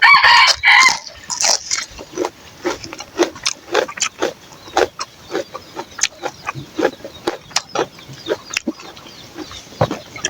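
A rooster crows loudly near the start, followed by a long series of short, sharp clucks and calls from farm chickens in a rural village yard, close by and with no talk.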